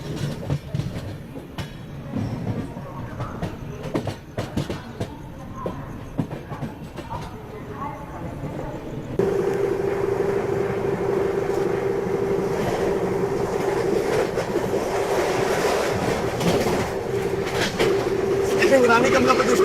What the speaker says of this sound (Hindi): वहाँ देखिए महामना एक्सप्रेस के जो रेक है ना, उनकी शंटिंग हो रही है